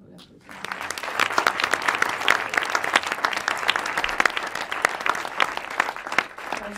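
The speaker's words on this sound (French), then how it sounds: "Je pense qu'on peut l'applaudir." An audience at a French debate on pesticides and lobbying, held with a film team, breaks into dense, sustained applause that starts abruptly after a brief pause and keeps a steady, close clatter of many hands throughout.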